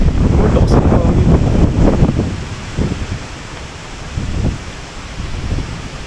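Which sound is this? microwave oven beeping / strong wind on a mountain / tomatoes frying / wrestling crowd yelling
strong wind on a mountain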